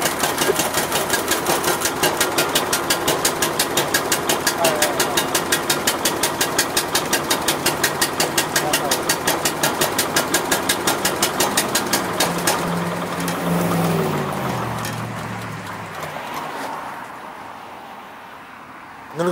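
A Honda-powered Billy Goat F13 wheeled push blower that had sat unused runs at a loud, rapid, steady engine chug, then winds down and slows toward the end as it is throttled back.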